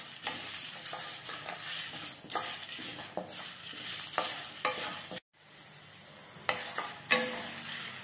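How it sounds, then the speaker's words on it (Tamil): Dried red chillies roast in a pan with lentils, giving a soft crackling sizzle and repeated scraping stirs, with one brief near-silent pause before the stirring resumes. "3 வத்த மிளகாய். போட்டு இது நல்லா செவக்க வறுத்துக்கலாம்."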